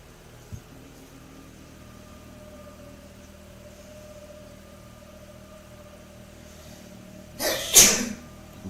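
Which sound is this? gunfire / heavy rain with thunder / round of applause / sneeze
sneeze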